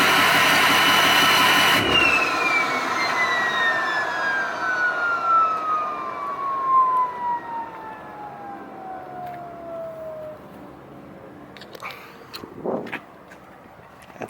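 Turbocharged truck floored at full throttle, a loud roar opening into a high turbo whistle that sweeps steadily downward over several seconds as it fades into the distance, with scattered small noises afterward.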